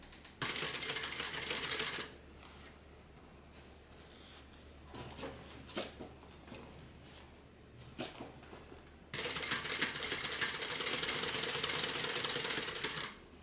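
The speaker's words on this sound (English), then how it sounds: "now I'm going to go ahead and start stitching" A sewing machine stitches a tote bag in loud, fast, steady runs at the start and end, with quieter handling taps and rustles in between.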